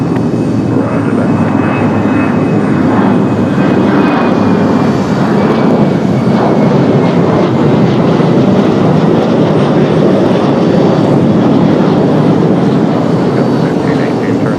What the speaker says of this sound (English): Delta 1518 with a go around.